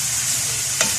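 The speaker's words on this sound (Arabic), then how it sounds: "هجيب معلقه كده طويله عشان اعرف اقلب كويس" Chicken frying with spices and onions is stirred with a long spoon, a dense steady sizzle close by with one short scrape of the spoon near the end.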